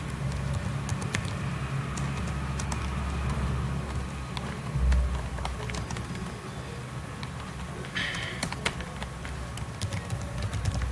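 Keys clack on a computer keyboard in irregular bursts of sharp clicks, fairly close, over a steady low hum with no talking.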